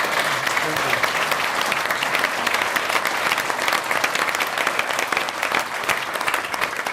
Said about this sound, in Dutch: En u mag gerust applaudisseren voor uzelf en voor de lijsttrekkers.